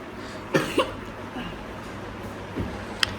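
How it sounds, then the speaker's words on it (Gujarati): People cough in two quick, close bursts near the start, followed by fainter throat sounds and a small sharp noise near the end over a quiet room background. "કેમ બધા ઉધરસ આવે છે"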